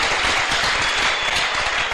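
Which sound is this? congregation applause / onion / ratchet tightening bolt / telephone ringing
congregation applause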